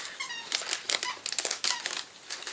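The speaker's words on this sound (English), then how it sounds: "If you hear squeaking, it's Poppy playing with her duck." A dog's rubber squeaky toy duck squeaks in a quick irregular series of short, high, bright bursts, close and fairly loud, with no talk over it.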